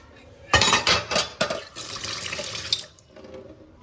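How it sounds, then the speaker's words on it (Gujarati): Water splashes during a vehicle wash, starting in loud gushing bursts, settling into a steadier running stream, then cutting off shortly before the end. "આપણે આ વાહન ધોઈ નાખશું હવે."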